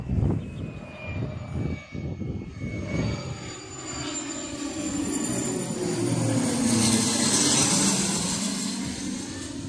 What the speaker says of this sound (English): there's another plane landing. And again, it's one of those private jet planes coming to land.